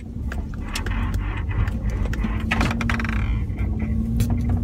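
Family car driving on the road after a car wash, a steady engine and road hum with small rattles and clicks from inside the cabin, no speech.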